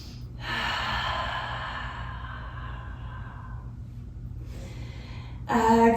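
Deep breathing during a yoga session: one long, close, audible exhale sighs out, then quieter breath follows, ending with a brief sharper intake.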